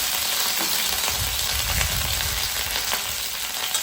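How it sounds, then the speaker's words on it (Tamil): Dried red chillies sauté in oil in a pan while being stirred with a ladle for mor kulambu, a steady close crackling sizzle with soft scraping, no voices. "ஸோ இதெல்லாம் லைட்டாக கரண்டியில் வதக்கிக்கோங்க."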